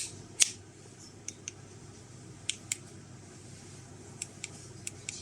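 The button on a tactical flashlight mounted on a Picatinny rail is pressed in a quiet room, making a series of sharp, small plastic clicks, one crisp click followed by several fainter ones spaced irregularly.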